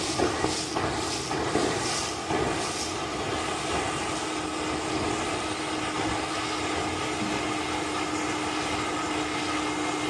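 Water and air rush out of an inground swimming pool jet line as it is blown out for winterizing, a steady loud hissing spray with a faint tonal hum, continuous throughout with no talking.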